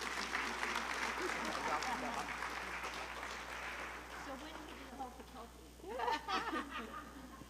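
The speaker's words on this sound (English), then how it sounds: "So give them one last applause." A church congregation applauds the ladies who run Fellowship Hall after a Sunday service, a dense wash of clapping that fades gradually, with light laughter and voices rising near the end.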